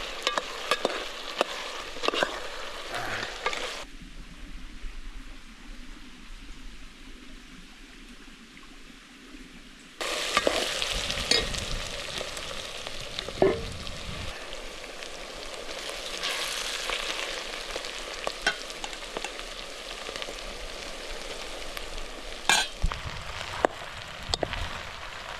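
Spicy goat innards fry with dried forest roots in a pan, sizzling loudly and steadily while a spoon stirs and scrapes. The sizzle dips briefly partway through, then surges back.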